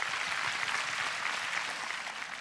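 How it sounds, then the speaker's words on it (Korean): Audience applause at a Korean literary award ceremony, a dense steady clapping of a large crowd, close and even throughout with no voices over it. "큰 박수 부탁드립니다."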